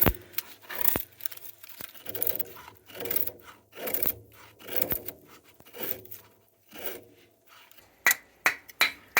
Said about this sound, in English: it's a little bit different feather sticking than what I did with my other knives, which was mostly convex grinds